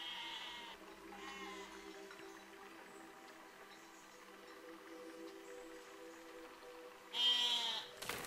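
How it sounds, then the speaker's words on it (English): Sheep in the video game Besiege bleat in several wavering calls, a couple early on and a louder, closer one near the end, over quiet game ambience with no speech. "Shut up, sheep."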